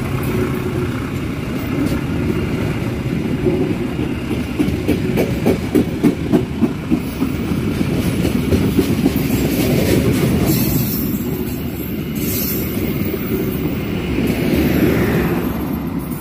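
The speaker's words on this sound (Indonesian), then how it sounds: "Lokal Garut Cibatuan sudah lepas stasiun Pasir Jengkol." A Garut–Cibatuan local passenger train runs along the rails near Pasir Jengkol station in Indonesia, a loud, steady rumble with rhythmic wheel clatter and some squeal, heard close for the whole stretch.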